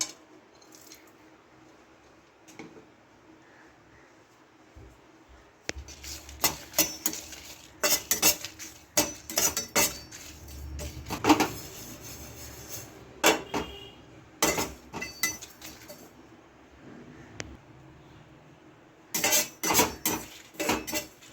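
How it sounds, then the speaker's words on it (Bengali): Whole spices, panch phoron, cumin, dried red chillies and a cinnamon stick, dry-roast in a pan, heard as quiet stretches broken by bursts of close metallic scraping and rattling as they are stirred. "এখানে আমি একটা মশলা তৈরি করে নিচ্ছি পাঁচ ফোড়ন গোটা জিরে দুটো শুকনো লঙ্কা একটা ডালচিনি"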